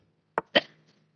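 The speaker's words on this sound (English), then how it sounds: "why I'm coughing so much?" Two short, sharp coughs close to the mic, the second fuller with a brief trailing rasp, followed by quiet.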